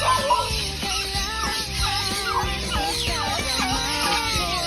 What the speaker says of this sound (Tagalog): Pakainin mo yung pabo.